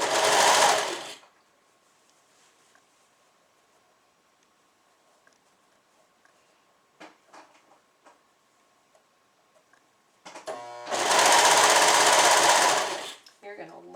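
Serger sewing machine stitching a seam through several layers of a suit, two loud rapid bursts at start and end, with quiet clicks and handling sounds between.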